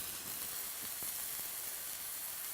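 Noodles frying in a pan for Singapore noodles, giving a soft, even sizzling hiss that holds steady throughout, with a couple of faint clicks and no talk.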